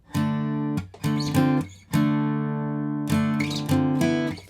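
A guitar strums a short progression of bright parallel triads from a song, each ringing briefly before shifting up or down, played alone with no voices.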